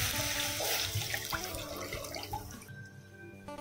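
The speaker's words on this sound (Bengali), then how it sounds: "এবার এটা একটু হালকা ফ্রাই হয়ে আসলে আমরা জল ঢেলে দেব" Water pours into a pan of lightly fried mustard seeds and curry leaves for doi bora, a steady close-up gush that runs for a few seconds, then cuts off into a quieter tail.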